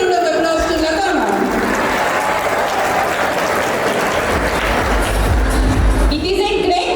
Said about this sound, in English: Let's give a big round of applause to Lata ma'am.